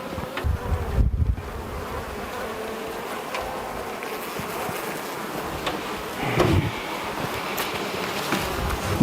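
Honeybees in an open hive, a continuous close buzzing drone from many insects, with some rustling and handling noise and no talking.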